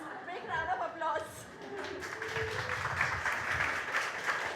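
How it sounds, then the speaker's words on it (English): An audience at a nature book launch applauds: scattered, fairly light clapping that starts under a speaking voice and grows into a steady patter toward the end. "Please, big round of applause."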